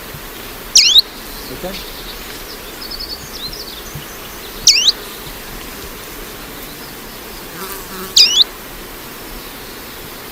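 A vagrant leaf warbler gives three brief, high, thin calls, spaced several seconds apart, over a steady low insect hum, with a quiet voice briefly speaking.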